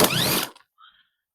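A 22mm socket wrench ratchets on the rusty power steering pump bracket of a Mini Cooper R50/R53, making a loud burst of close clicking followed by a few faint metallic taps and then silence.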